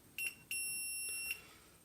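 A multimeter gives a continuity beep as a needle probe pierces the wire of an Emax RS2205S motor: a short high-pitched beep, then a longer steady one, clear and close.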